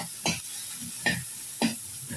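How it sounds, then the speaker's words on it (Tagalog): Onions sautéing in a pan for a home-cooked breakfast, a steady sizzle broken by three brief scraping stirs spaced under a second apart, close and moderately loud with no talking. "sibuyas pa lang yung ginisa ko"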